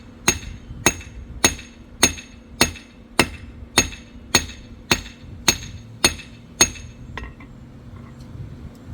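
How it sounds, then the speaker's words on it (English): Steel hammered flat on an anvil face while forging a Simmons style leaf, about twelve evenly spaced, loud ringing strikes with a metallic clink, then the blows stop and the ring fades. "I'm going to head to the face of the anvil and start flattening it out."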